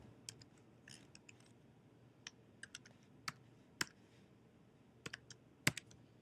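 Faint, scattered keystrokes tap on a computer keyboard while a password is entered, with irregular clicks separated by short pauses against a quiet background.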